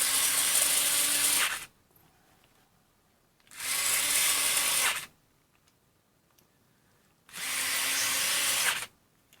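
A SKIL Twist 2.0 4V rechargeable electric screwdriver whirs loudly under load in three sustained bursts of about a second and a half each, with quiet pauses between them.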